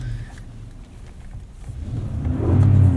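A 2018 Infiniti QX80 4WD's 5.6-liter 400-horsepower V8, heard from the cabin, rumbles low and then swells into a louder, deeper roar as it accelerates toward the end.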